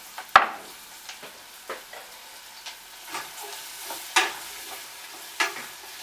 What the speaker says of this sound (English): We'll go ahead and put these onions in here and let them get nice and fragrant